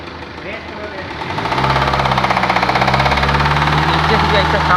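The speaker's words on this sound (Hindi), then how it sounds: "नीचे से भी ऐसा साउंड लग रहा है कि यहाँ पे कुछ टकरा रहा है" A BMW 118d diesel engine revs up from idle with a steady, rhythmic knocking running through the strong low rumble, loud and close, with a voice speaking over it.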